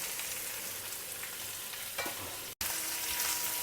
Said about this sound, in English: Now adding this washed and chopped tindora or dondakai to it.